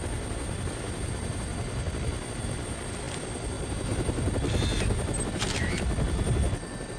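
Helicopter in the Dead Rising video game, a steady loud rotor drone across the whole stretch with brief metallic clanks and beeps layered on top, no talking.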